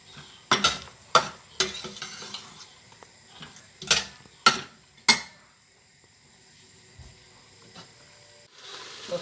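Okra frying in a pot is stirred with a utensil, making several sharp scraping clacks against the pot over a low sizzle, then the scraping stops and only faint frying remains.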